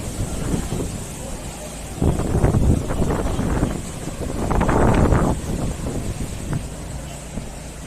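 Wind gusts rumble across the microphone at an outdoor seafront bar area in Benidorm, swelling twice into loud buffeting blasts over a steady rushing background.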